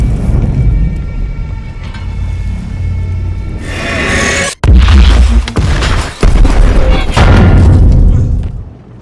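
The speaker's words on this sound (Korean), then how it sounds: "니콜라이는 판터의 방어력이 약한 포탑 링을 맞추게 됩니다." A tank cannon fires on a Panther turret ring in a World War II tank film, a loud, deep boom and heavy rumble with a sharp cut and renewed roaring blasts, dense and overwhelming.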